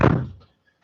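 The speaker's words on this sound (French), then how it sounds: "je ferme la porte" A door closes with a single dull, close thunk that fades quickly into quiet.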